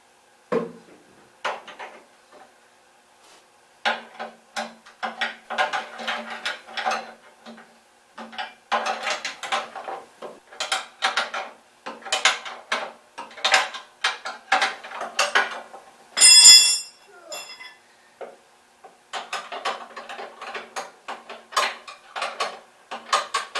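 Ratchet wrench with 3/4 inch sockets tightening bolts while a dolly is installed, with bursts of rapid metallic clicking and clanks, a short high metallic squeal near the middle, and no talking.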